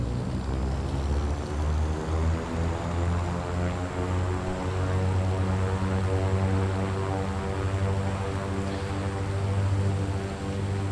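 Cessna propeller plane engine droning steadily at full power on the takeoff run, a loud, constant buzzing hum with even harmonics, close and alone without voices.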